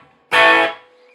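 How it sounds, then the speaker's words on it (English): An electric guitar strummed hard through an amp breaks into distortion, giving one loud, buzzy chord that sustains briefly before cutting off into a faint ringing tail. "lay into it, you start getting that distortion"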